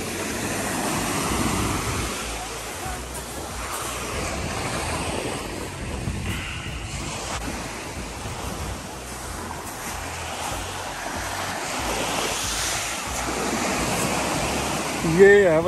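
Sea waves washing onto the beach at Platja d'Aro on the Costa Brava in Spain, a continuous broad surf roar with gentle swells, mixed with wind buffeting the microphone and faint voices.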